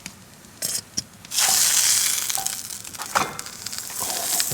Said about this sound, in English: I'm just throwing some butter in a pan with some garlic.